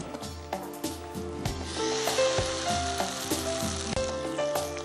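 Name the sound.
dipped batter frying in hot oil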